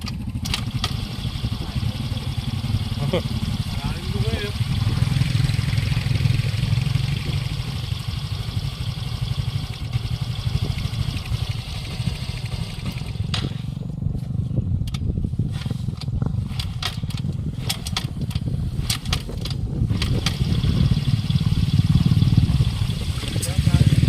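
A broken-down motorcycle engine, restarted after crossing deep water, runs steadily nearby, a low droning rumble throughout, with voices talking over it and a brief rustling patch midway.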